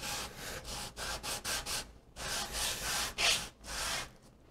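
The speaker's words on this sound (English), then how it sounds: "A better piece of sandpaper here." Wood laminate parts are sanded by hand with sandpaper, giving soft, raspy scrubbing strokes in an uneven back-and-forth rhythm. The strokes are close and fairly quiet, with no voices.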